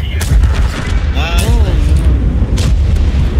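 Tank cannon fire in the video game World of Tanks, with heavy booming shots and rumbling blasts through the clip while someone talks over the action.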